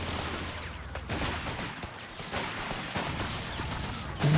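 Machine gun fire in the World War II strategy game Company of Heroes 3, steady rapid crackling bursts of suppressing fire with scattered heavier thuds, continuous with no talking.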